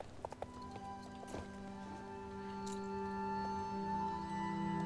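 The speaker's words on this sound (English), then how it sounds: "So this is the special Tennessee walking horse, ambling kind of walk." A Tennessee walking horse in the Star Stable Online video game ambles along with quick, soft, rhythmic hoof clip-clops under a steady tonal game music bed, with no talk.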